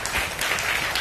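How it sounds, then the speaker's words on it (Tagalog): Church congregation applauding, a dense continuous patter of many hands clapping at fairly close range for about a second, without speech. "Come on, yung mas malakas sa palakpak."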